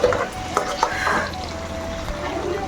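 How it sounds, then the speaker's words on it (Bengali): Soft cooked potatoes are lifted out of a pan with a utensil, giving a few close clinks and scrapes over a faint, steady sizzle. "চলো গাইস আলুগুলো একটু তুলে দিই নাহলে যদি আবার গলে যায়"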